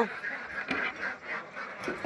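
Domestic ducks kept for laying eggs give a run of nasal quacks, several in quick succession at close range, fairly soft.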